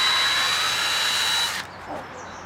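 A power drill runs in reverse to back its bit out of a wooden log, a steady high whine that cuts off abruptly partway through, followed by a faint clatter.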